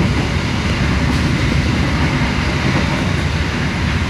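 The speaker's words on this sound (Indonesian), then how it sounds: "itu tadi kereta api Manahan sudah balapan dengan kereta api Tegal Bahari" Loud, steady rumble of an Indonesian passenger train running at about 100 km/h, the Tegal Bahari, with the Manahan train racing alongside on the adjacent track; dense broadband roar without voices.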